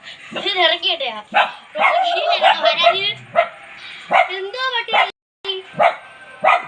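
A dog barks and yips repeatedly at close range, with whimpering tones mixed in and people talking over it.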